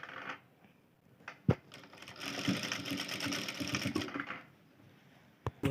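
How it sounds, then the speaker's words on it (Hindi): A sewing machine stitches the neckline of a dress, a quiet close whirring run of about two seconds framed by a few sharp clicks and handling knocks, with pauses on either side. "इस तरह से सभी पॉइंट को मिला के हमें सिलाई कर देनी है।"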